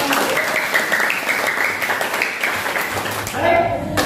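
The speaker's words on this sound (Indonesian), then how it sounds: "Berikan tepuk tangan untuk kelompok pertama." A classroom of students claps for the first group after its demonstration, a steady wash of clapping heard under an adult voice that keeps talking across it.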